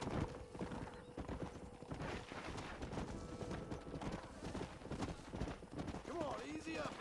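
A freshly tamed horse in Red Dead Redemption clops along in a quick, steady hoof rhythm beneath people talking. A shrill neigh breaks through near the end.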